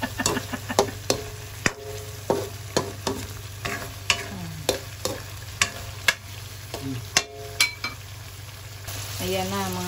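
Shrimp sautés in a pan with mung beans and chili under a steady sizzle, broken by regular clinks of a utensil stirring about every half second. Near the end the stirring gives way to a continuous frying noise.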